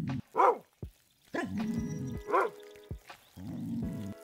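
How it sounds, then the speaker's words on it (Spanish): A dog in the video game Alchemist: The Potion Monger barks in a few spaced, sharp yelps, interleaved with low droning game sounds and brief soft noises. "Mira a ver el que está ladrando el perro."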